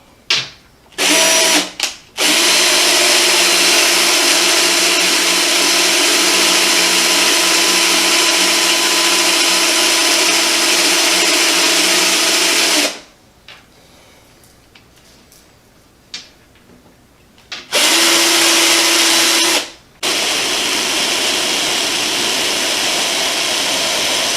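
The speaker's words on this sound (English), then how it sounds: "Let's drill some holes" A power drill whines loudly in long sustained bursts while drilling holes in a boogie board table, stopping briefly between holes, with a short quieter gap before it starts up again.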